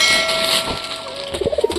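Several pigeons, including black birds, are near, and a soft run of rhythmic, throaty coos pulses at the end over a faint ringing background tone.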